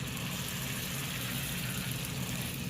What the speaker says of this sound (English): And I'm going to sear this on all sides.